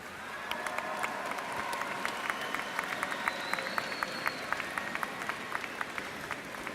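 Students at a school ceremony applauding their parents, family and friends, a steady patter of many hands clapping from across a large room, fairly faint and even throughout.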